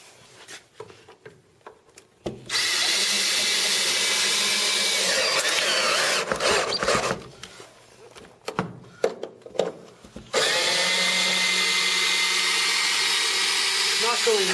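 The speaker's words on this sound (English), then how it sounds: "get my driver, put it on low speed so I have higher torque." A power driver set to low speed drives a screw into wood in two loud, sustained whirring runs, the first about four seconds and the second resuming after a pause filled with knocks and handling noise.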